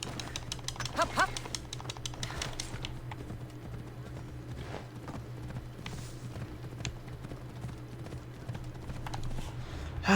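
Horse hooves clip-clop steadily in Assassin's Creed Odyssey, a moderately near rhythmic trot over a constant low game ambience, with brief louder clatters early on and no talking.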